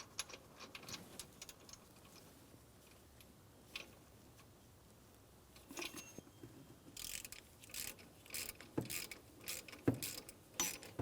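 Torque wrench ratcheting on an idler pulley mounting bolt of a 2007-2014 GMC Sierra 2500 HD 6.0L V8, a quiet run of close mechanical ticks and clicks, sparse at first and then denser, with no talk.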